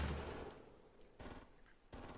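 Gunfight in a video game, heard as three faint, distant bursts of gunfire, the first longer and the next two shorter, spaced across a couple of seconds, no talking.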